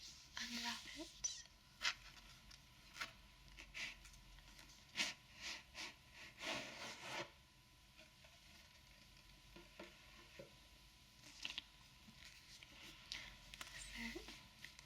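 Crinkly unwrapping of a special edition young adult book cover, close and quiet ASMR-style, with scattered paper rustles and crackles in bursts over about seven seconds, then softer handling sounds.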